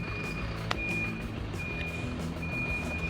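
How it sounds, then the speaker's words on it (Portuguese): A gas delivery truck backs up nearby, its reversing alarm sounding a steady series of high, evenly spaced beeps over a low engine rumble and street noise. "O caminhão do Supergas Brás também tem para incomodar aqui bem na hora que eu tô gravando."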